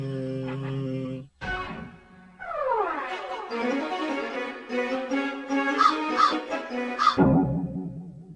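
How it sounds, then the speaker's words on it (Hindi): A crow caws in an animated Akbar and Birbal folk story, a series of loud, close, harsh calls layered over tonal cartoon music and effects, with no talking. "इससे पहले कभी कौवा नहीं देखा क्या?"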